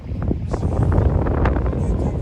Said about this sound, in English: It's so breezy and relaxing.